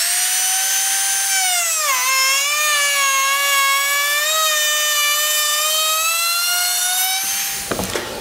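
A Bosch GKF 600 palm router with a worn bearing-guided bit cuts wood with a loud, high, steady whine that dips in pitch briefly under load. The motor then winds down with a clatter at the end.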